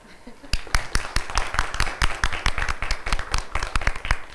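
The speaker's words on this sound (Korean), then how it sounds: "여기 박수로 환영해 주시기 바랍니다." Audience applause at a youth social impact event welcoming a panel, many hands clapping in a steady, fairly close burst after a quiet moment, with faint room sound underneath.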